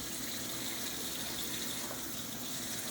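Tap water gushes steadily into a sink as freshly dyed synthetic ombré curtains are rinsed, a constant broadband rush with no pauses.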